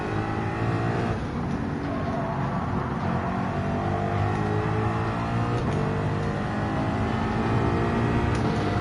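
A V8 race car in Gran Turismo 7 hums steadily under light acceleration, a smooth, continuous and surprisingly subdued engine drone held at a constant level throughout.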